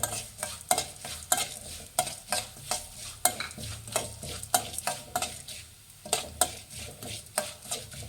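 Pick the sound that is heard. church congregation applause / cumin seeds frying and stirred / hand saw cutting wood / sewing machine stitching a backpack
cumin seeds frying and stirred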